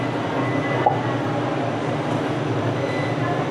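A train on the rail line up to the Montserrat monastery near Barcelona gives a steady, even rumble of rolling wagons, fairly loud and continuous, with one brief click near the start and no talking.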